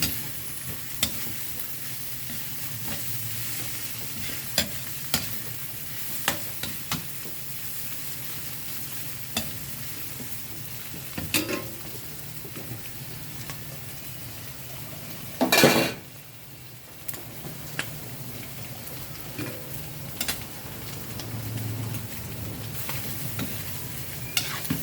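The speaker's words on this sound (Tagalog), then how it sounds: "Gigisa na po natin siya para maluto ng konti sa mantika. Saka ma-absorb niya yung bawang at sibuyas." Chicken liver is sautéed in oil with garlic and onion, giving a soft, steady sizzle under scattered clinks and scrapes of a utensil against the pan, with one louder clatter midway.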